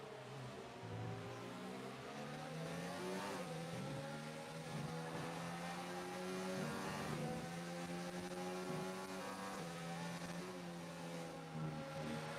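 Formula 1 cars from the racing game F1 2019 at the German Grand Prix drone at high revs without a break, several engines layered and shifting pitch as they run close together in slipstream.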